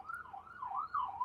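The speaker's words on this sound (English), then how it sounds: "We got a siren going on that is distracting." A wailing siren passes outside, its pitch sweeping up and down in a steady, repeated cycle, fairly clear and alone with no talk over it.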